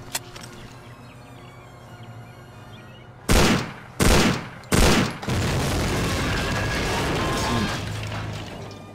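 An explosive charge detonates in the WWII shooter Hidden & Dangerous 2, giving three loud, sharp blasts in quick succession, then a sustained roar of rumbling debris and crackle that slowly fades over a faint ambient game background.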